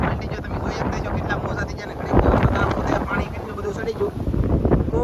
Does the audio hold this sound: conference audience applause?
no